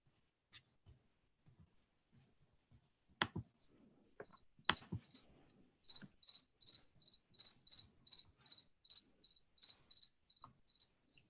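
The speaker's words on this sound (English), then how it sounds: "I hear crickets, literally." Crickets chirping in a steady pulsing series of high, thin trills, faint and distant, with a few soft knocks and clicks beforehand in a quiet space.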